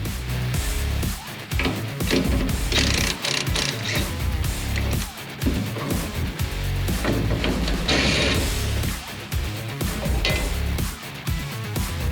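Ratchet clicking while battery tray fasteners are removed from a 1966 Mustang, with busy, close mechanical clatter and repeated metallic ratcheting bursts throughout.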